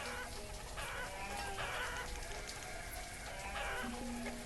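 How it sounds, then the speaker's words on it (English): Chickens in the farming game Banished cluck in short repeated bursts over a steady ambient background, one brief crow-like call rising near the end, no voices. "We have got chickens over there."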